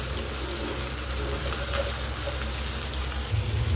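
Hot water pours steadily into a pressure cooker during home cooking of mutton, a continuous close gushing splash that stays fairly even throughout with no talk.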